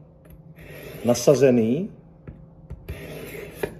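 A knife drawn smoothly across a whetstone, its left edge sharpened in quiet, close scraping strokes, partly under someone speaking.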